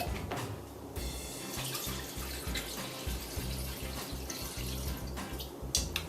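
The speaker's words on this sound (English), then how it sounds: "Take your homemade soup stock," Homemade soup stock poured from a container into a pot for egg drop soup, a steady close liquid splashing and gurgling that runs for several seconds with no talk over it.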